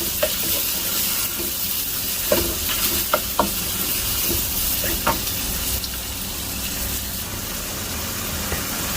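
Small cubes of chicken fry in garlic in a pan, a steady close sizzle broken by scattered scrapes and clinks of stirring.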